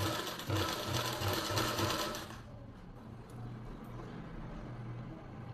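A sewing machine stitches fabric close to a garment neckline, running loud and continuous at a fast even rhythm, then slowing to a lower, steadier whir for the rest, close by.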